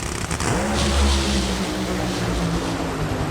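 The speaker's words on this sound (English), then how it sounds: "It's the Nitro Funny Car Final." A nitro funny car roars off the line in an NHRA drag racing final, a loud, steady engine blast with rising revs that fills the whole moment.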